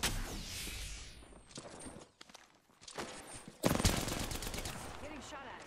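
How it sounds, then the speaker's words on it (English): Bursts of rapid gunfire from the video game Apex Legends come in uneven volleys, with a loud cluster near the end and brief quieter gaps between. "Getting shot at."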